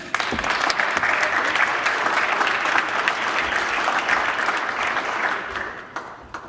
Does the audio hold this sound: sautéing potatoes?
no